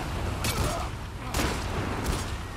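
Bursts of gunfire in The Last of Us Part 2, three sharp volleys spaced about a second apart, loud and close over a busy game background.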